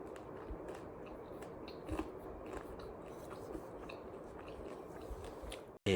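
Crispy baked okra snacks being chewed close up, with a steady run of crunchy, moist bites and a louder crunch near the end.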